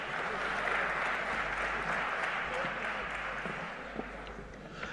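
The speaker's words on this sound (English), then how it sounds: "Let us welcome him with a huge round of applause." Audience applause at the BioAsia 2024 conference inauguration at HICC, a dense, steady wash of clapping that holds loudly throughout and thins slightly near the end.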